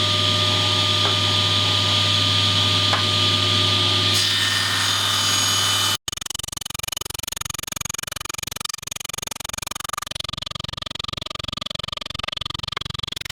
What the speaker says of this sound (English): I'll need to rip down one edge of each of these boards I'm going to use